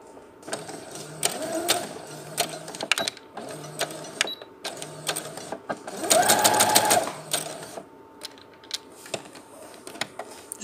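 Sewing machine stitching a seam on a fabric face mask, running in repeated short bursts with brief pauses and one longer, louder run near the end, close up with light handling noises between.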